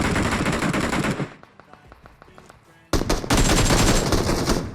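M416 rifle gunfire in PUBG, with loud sustained automatic bursts, then a short quieter gap with scattered distant shots, then another heavy close burst.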